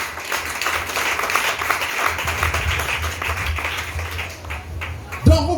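A congregation at a French-language church service claps together in a sustained, dense burst of applause, fairly loud, ending in a sharp low thump near the close.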